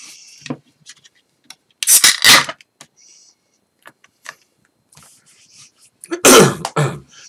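A man clears his throat a few times at a table while reviewing a hazy pale ale poured from a 32-ounce crowler. The bursts come in two close, loud clusters, with brief quiet gaps and small rustles between them.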